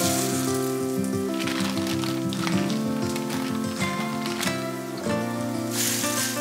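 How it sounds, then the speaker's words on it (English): Grass-fed beef hamburger patties sear in beef tallow in a hot pan, a steady crackling sizzle like rain on a surface, heard under prominent background music. "I have a little bit of beef tallow in here and I'm gonna fry these up"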